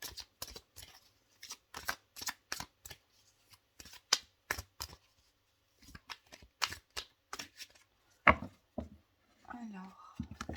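Oracle cards from the Petit Enchanteur deck being shuffled by hand for a daily draw: a quick series of crisp riffling bursts in uneven rhythm, close and clear, ending with a short spoken phrase.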